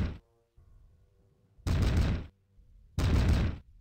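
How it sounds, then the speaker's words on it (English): Cannon fire in a Pike and Shot 17th-century battle game: two loud, broadband booms about a second apart, each lasting roughly half a second, over a quiet low battlefield rumble. "Some nice cannon fire."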